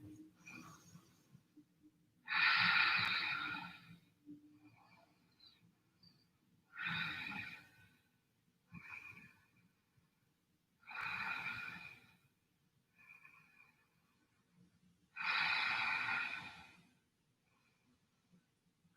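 Heavy breathing during a standing forward-fold yoga pose: five loud, breathy exhales spaced a few seconds apart, each followed by a quieter inhale, close to the microphone.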